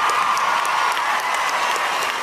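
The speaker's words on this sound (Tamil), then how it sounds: "எல்லாரும் ஸ்டாண்டிங் ஓவேஷன் அவனுக்கு கொடுக்கணும்னு ஆசைப்பட்றேன்" An audience at a film audio launch applauds in a standing ovation for director Mari Selvaraj, producing a dense, sustained clapping roar that holds steady throughout with faint crowd murmur beneath.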